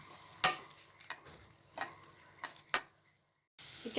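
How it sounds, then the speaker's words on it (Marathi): Tomato puree and ginger-garlic paste sautéing over medium heat, heard as sharp, sparse spoon clicks and scrapes against the pan over a faint sizzle, with a brief silent gap near the end. "इथे टोमॅटो आणि आलं लसूण पेस्ट पण मी अशी 5 मिनिटं मीडियम गॅसवरती परतून घेतली आहे"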